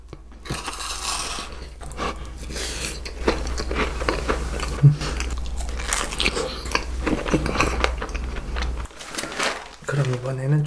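Close-up crunchy biting and chewing of a soft milk-cream waffle with a big strawberry, wet mouth sounds and crisp crunches under a voice speaking a few words.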